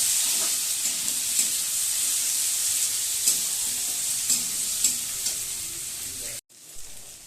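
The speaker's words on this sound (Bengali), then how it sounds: "দিয়ে আবার একটু ভাজা ভাজা করে নেব।" Chopped tomato and green chilli fry loudly in hot oil for egg tadka, a continuous close sizzle with occasional stirring knocks, briefly cut off near the end.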